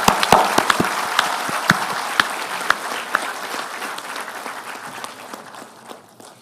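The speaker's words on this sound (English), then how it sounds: "please a loud applause for your parents who are here today" Audience at a university convocation applauding the graduates' parents, a burst of clapping with sharp individual claps that gradually thins and fades toward the end.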